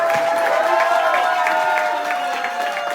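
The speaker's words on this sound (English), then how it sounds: "Please give another round of applause" Audience applause after a morning coffee-show talk in a ship lounge, steady broadband clapping with some crowd noise and a sustained tone running underneath, continuous throughout.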